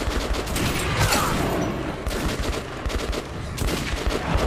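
Rapid bursts of automatic gunfire in the video game Metro Redux, dense and continuous with brief gaps, loud and close throughout.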